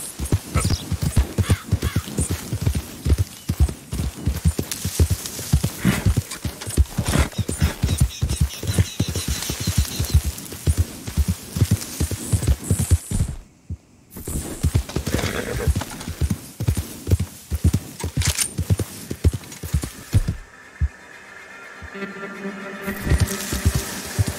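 Hoofbeats of a horse galloping in Red Dead Redemption pound in a fast, steady rhythm, loud and close, broken by a brief pause and a whinny before the clatter resumes and slows near the end.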